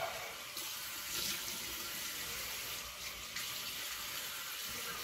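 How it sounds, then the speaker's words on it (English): A water tap runs steadily in a barbershop for a cold water rinse after a straight razor shave, a continuous close hiss of flowing water with no voices. "Little cold water rinse."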